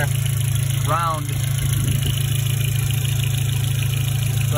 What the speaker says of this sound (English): Motor sounds so good